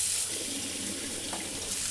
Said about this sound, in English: I have filled that tray with hot water.